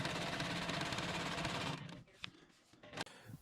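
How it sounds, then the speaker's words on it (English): Home sewing machine stitching the outer line around a quilt-as-you-go bag panel, a dense steady mechanical whir that runs loud for under two seconds, then stops, leaving faint handling clicks and a couple of short taps. "And now we can head over to the sewing machine."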